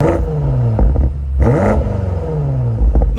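A BMW X6M Competition engine revs up and down repeatedly, loud and close, its exhaust rising in pitch with each throttle blip and falling back to idle.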